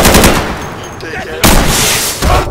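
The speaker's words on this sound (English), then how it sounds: "Where'd you shoot me from, Dana?" Close, loud automatic gunfire in the video game Insurgency, bursts of rapid shots with a brief lull in the middle before heavy firing resumes.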